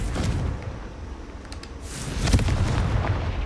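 A Confringo fire spell explodes in the Hogwarts Legacy video game: a muffled rumble that swells into a louder blast and crackle about two seconds in, then a sustained low roar.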